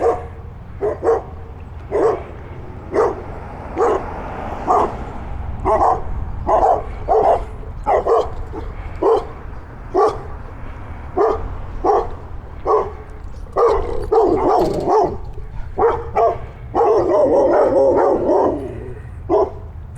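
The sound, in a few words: dogs barking behind a yard fence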